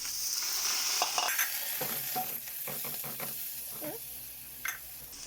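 Water is poured onto Baguio beans frying in a pan with onion and garlic, bringing a bright hissing sizzle followed by scattered stirring clinks and bubbling at moderate loudness.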